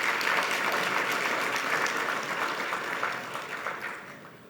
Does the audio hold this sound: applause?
yes